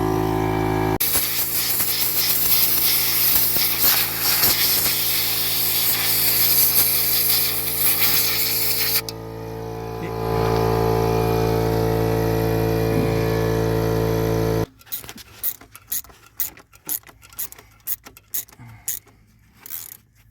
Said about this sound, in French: Douille de 7 pour serrer les colliers.